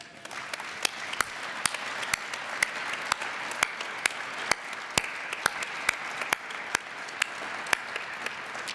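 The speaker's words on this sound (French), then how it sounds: "Et j'aimerais que vous les regardiez, ils sont derrière vous, et que vous les applaudissiez." Audience in a factory setting applauding employees, with dense, continuous clapping and sharp individual claps standing out at a steady pace throughout, moderately distant.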